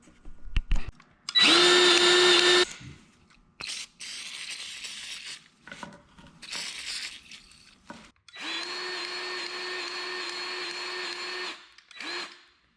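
A power tool re-tightens bolts while a John Deere 59-inch snowblower is installed on a John Deere 3046R tractor, whirring in several loud steady bursts of a few seconds each, with short pauses and clanks between them.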